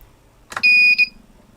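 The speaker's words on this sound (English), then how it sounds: "we're getting a buzzer beep every time that happens" A buzzer on the flight controller of a small brushed 110mm quadcopter sounds on arming, preceded by a click. It gives a loud, steady, high-pitched beep lasting about a third of a second and then a short second beep, close up.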